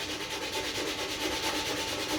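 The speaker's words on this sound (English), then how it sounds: "get your sandpaper, which we'll have, and I just want you to try and sand that bump out" Steady rhythmic rasping of sandpaper rubbed back and forth over a surface, close and continuous with no talking.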